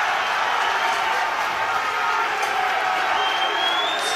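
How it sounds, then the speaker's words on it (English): A loud, unbroken roar fills a fight arena in the UK as the crowd cheers for Craig Turner, a dense wash of voices and whoops sustained at full level throughout. "Crowd going wild for Craig Turner here."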